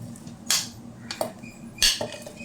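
Raw mango pieces drop into a steel mixer grinder jar with a few clinks and clatters, two louder metallic knocks standing out in a quiet kitchen.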